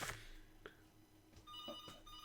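A telephone rings with short, repeated bright electronic bursts set apart by brief gaps over a low background hum, fairly faint, with no voices.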